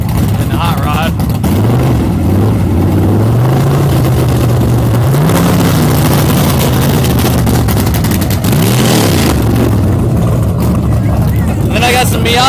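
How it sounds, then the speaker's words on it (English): A Mazda Miata revs hard during a burnout on 185-size tires, its engine pitch climbing and dropping in repeated surges, loud and close with a steady roaring wash underneath. "do a burnout here. It's going to be my 200 subscriber burnout."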